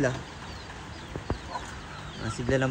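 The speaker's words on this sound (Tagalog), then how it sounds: "Yun yung mga alaga natin manok dito." Backyard pet chickens kept in a small pen cluck in short, close bursts, with a few sharp calls and a louder flurry of clucks near the end.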